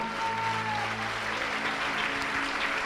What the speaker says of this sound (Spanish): ¿Le quieren dar un aplauso al Señor?